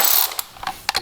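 A ratchet wrench loosens alternator bolts on a BMW N52/N51 engine, giving quick close clicking bursts in short irregular strokes.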